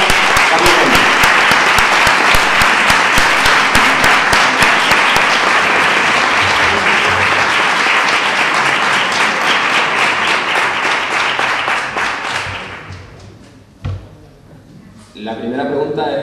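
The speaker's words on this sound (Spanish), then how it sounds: "Un fuerte aplauso para Carlos Manuel." Loud, sustained applause from an award ceremony audience honoring a literary prize winner, dense clapping lasting about twelve seconds before tapering off, followed by a host beginning to speak.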